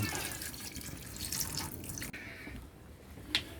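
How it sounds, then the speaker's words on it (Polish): Water poured from a tap over sausages in a pot while camping in a trailer, a close, wet splashing and trickling that shifts in tone midway, with a few small drips and clinks. "Wrzucimy kiełbaski."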